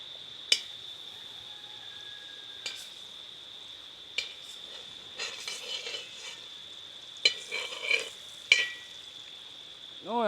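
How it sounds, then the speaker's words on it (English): Saltfish fries in butter in a pot outdoors, a steady sizzle with occasional sharp clanks and scrapes of a stirring utensil against the pot. "right now, I get on the pot to fry up the saltfish and the bait"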